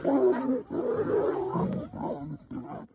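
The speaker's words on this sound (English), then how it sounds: "The lioness growls at him and attacks him with her claws." A lioness growls and roars fiercely while attacking a lion, with loud, rough, continuous snarls broken by short pauses at close range.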